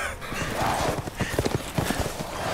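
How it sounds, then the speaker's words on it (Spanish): Horse hooves in Resident Evil Village, a rapid clip-clop of galloping hoofbeats, close and rhythmic, over a dense in-game background of rumbling ambience. "¡Wey, usaban caballo!"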